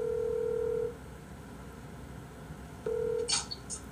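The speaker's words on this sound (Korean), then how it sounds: "전화 좀 해볼게" Telephone dial tone and quick keypad DTMF beeps as a call is placed, a steady tone at first, a short pause, then the tone again followed by a brief burst of dialing beeps.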